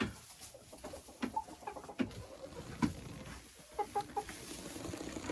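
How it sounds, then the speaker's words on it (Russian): A Faverolles rooster and nearby chickens in a henhouse give scattered short clucks and calls, moderately close, over a busy rustling background. "Это петух Фавероль."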